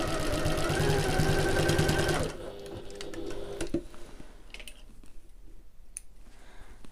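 A sewing machine back stitching down a backpack panel runs steadily and loudly for about two seconds, then stops, leaving faint handling clicks and soft rustling.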